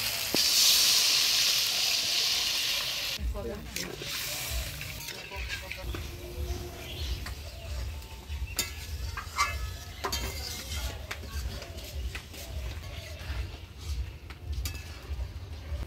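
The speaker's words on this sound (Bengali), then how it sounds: "মশলা থেকে তেল ছেড়ে দিতে মশলাটা আমি ভালোভাবে কষিয়ে নিলাম" Spice paste for a rohu fish kalia sizzles loudly in hot oil at first, then settles into steady frying with scraping stirs as it cooks down until the oil separates, close and continuous.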